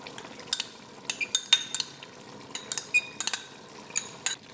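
Metal spoon scraping and clinking against a pot while stirring homestyle Lahori chicken curry with whipped yogurt, a series of sharp, irregular taps and scrapes close by over a quiet background.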